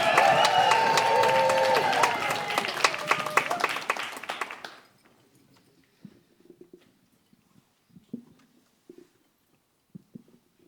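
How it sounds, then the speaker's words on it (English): Poetry slam audience whooping, cheering and applauding loudly for about four seconds, then dropping to near silence with only a few scattered claps and knocks. "Let's get our whooping going. Let's get that cheering."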